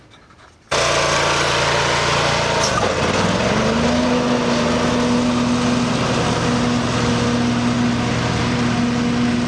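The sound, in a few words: lawn mower running with mulching blades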